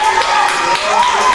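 Crowd clapping and cheering as a surprise guest is welcomed at a show, dense applause with a voice rising above it and lively crowd noise throughout.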